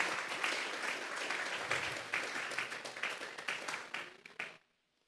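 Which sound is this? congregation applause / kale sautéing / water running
congregation applause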